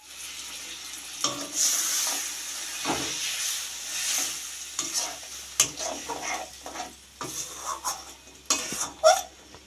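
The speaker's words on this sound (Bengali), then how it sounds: "এবার এটাকে ভালো করে কষাবো" Spice paste is sautéed with potatoes and onions in a pan, with intermittent scraping strokes of a spatula and soft sizzling between them, close and moderately loud.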